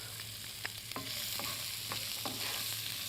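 Onions and green chilies sizzle as they fry in a pan for Indian cooking, a steady crackling hiss with occasional stirring scrapes and a low hum underneath.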